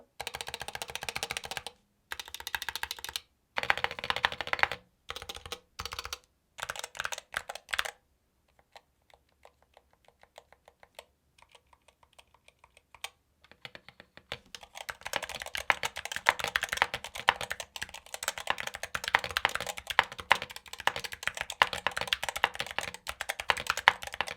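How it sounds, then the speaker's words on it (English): Rapid clicky keystrokes on a mechanical gaming keyboard, loud and close, pausing into a quieter patch before resuming in dense, fast bursts. "Now I want to give you again the sound test of the keyboard."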